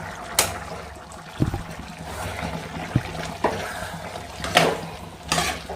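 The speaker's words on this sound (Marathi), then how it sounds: "थोडंसं मिक्स करून घ्यायचं." A spoon stirs chicken pulao in a cooking pot, with scattered scraping clanks and knocks against the metal over a soft simmering background, fairly close.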